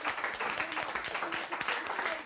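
An audience breaks into a round of applause at a team motivation masterclass, dense steady clapping from many hands filling the room, fairly quiet and continuous throughout.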